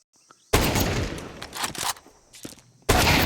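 Loud single shots from a scout sniper rifle in a professional CS:GO match on the Ancient map, sharp cracks separated by quieter game noise and footsteps.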